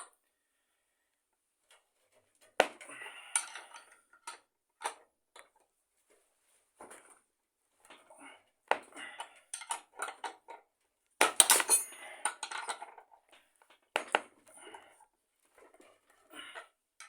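Scattered metallic clicks, taps and clinks as a 19 mm metal combination wrench is clamped and tightened in a vise, irregular and close, with quiet gaps between clusters of sharp contacts and no talking.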